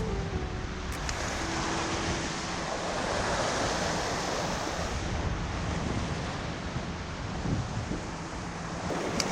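Sea surf washing steadily against the shore of the Japan Sea coast in Aomori during November shore fishing, a loud continuous roar mixed with wind buffeting the microphone, with no talking.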